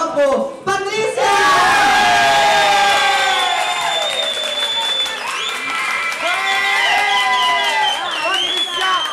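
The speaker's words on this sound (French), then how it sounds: "Et maintenant, vos applaudissements pour Patricia!" Loud, sustained applause and cheering from a talent-show audience in France, with excited shouts and whoops over dense clapping after a short opening pause.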